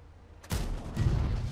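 A sudden booming blast from a tank cannon in World of Tanks, followed by rumbling explosions and battle noise that carry on loudly to the end.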